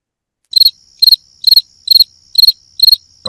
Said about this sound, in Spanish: el de grillos.